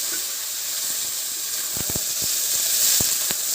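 Moringa drumsticks sizzle in a hot pan with five-spice tempering, a steady bright hiss broken by a few sharp pops and crackles, close and fairly loud, with no talking.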